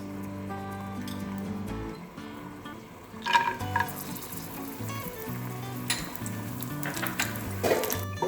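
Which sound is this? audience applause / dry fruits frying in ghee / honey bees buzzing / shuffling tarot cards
dry fruits frying in ghee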